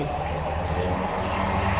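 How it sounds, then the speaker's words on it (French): A nearby airplane landing at an airport in Dubai gives a loud, steady engine roar that fills the whole stretch with broadband noise, heard alone without voices. "Ah bah c'est mon avion qui atterri peut-être"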